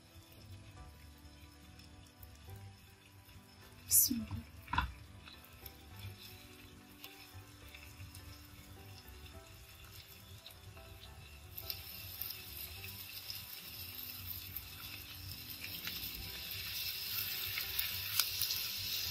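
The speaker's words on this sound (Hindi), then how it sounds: "मेरा ऑयल गर्म हो चुका है। अब मैं इसमें एहतियात से अपना कबाब डाल दूंगी।" Shaped seekh kebabs fry in hot oil with a soft, steady sizzle, close and fairly quiet, with a couple of sharp clinks early on and the hiss growing brighter and fuller in the second half.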